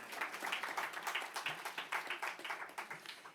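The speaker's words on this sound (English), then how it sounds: "So I think AFC can give a clap to themselves for that." A crowd applauds an advocacy organization at a New York City award event, a steady run of clapping from many hands that stays moderate in volume and fairly close, with no talking over it.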